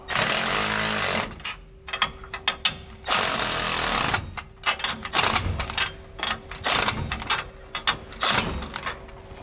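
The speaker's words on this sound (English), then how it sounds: "we can come back with that 9/16 socket and start snugging up the U-bolts" A 9/16 socket on a power tool snugs up U-bolts while a Roadmaster Reflex steering stabilizer is fitted to a 2019 Newmar Bay, giving loud bursts of rattling, hammering impact with short pauses between runs.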